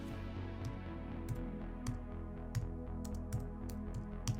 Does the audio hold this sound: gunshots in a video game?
no